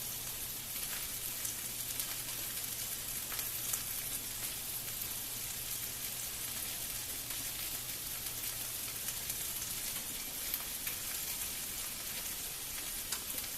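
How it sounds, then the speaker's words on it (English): Sausages frying in a pan give a steady, faint sizzle and crackle that runs on evenly without a break. "you can hear the sausage starting to go"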